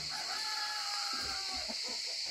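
Apaçi chickens in a coop cluck and call softly against a steady hissing background, with a faint rooster-like crow rising amid low murmurs of nearby birds.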